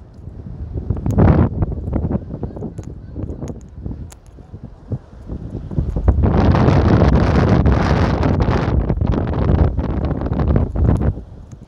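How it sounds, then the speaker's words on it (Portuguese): Heavy wind roars across the microphone on a beachfront promenade in Fortaleza, Brazil, loud and sustained with rising gusts, largely alone without speech. "Vento muito forte, não sei se vai ficar legal."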